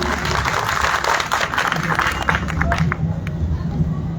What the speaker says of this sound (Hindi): एक बार जोरदार तालियों से भैया का अभिनंदन करें।